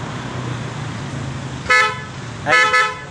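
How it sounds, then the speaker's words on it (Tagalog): Two short motorcycle horn honks from a Honda Click 125i, a single beep followed by a quick double beep, loud and close over a low engine hum. "Busina."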